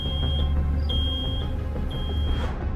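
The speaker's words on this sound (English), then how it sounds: "Oh no! Something's beeping!" In the video game Road 96, an electronic alarm beeps: a steady high tone sounds in repeated stretches over a low rumbling background.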